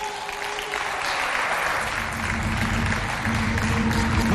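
A studio audience at a Chadian television variety show applauds the arrival of performer Abba Kalam, a continuous wash of clapping from many people beneath a low steady hum.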